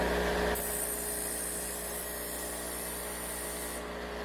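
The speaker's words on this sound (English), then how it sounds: "we're going to take it down about right there using this grinding wheel" A grinding wheel cuts off a corner of a steel rock slider for a 5th-gen Toyota 4Runner, a harsh, steady hissing whine that starts abruptly, runs about three seconds, then cuts out, with no talking.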